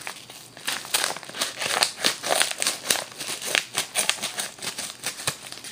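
Scissors cut into a video game package with rapid, rhythmic crinkling and snipping bursts of plastic wrap, steady and close-up for several seconds.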